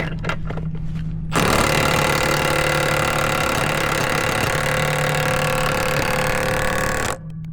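The diesel engine of a broken Cat 966K wheel loader under repair roars loudly and steadily after starting, a dense close rumble lasting several seconds before it abruptly drops away.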